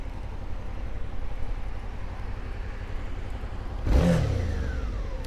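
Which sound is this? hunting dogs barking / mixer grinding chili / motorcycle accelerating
motorcycle accelerating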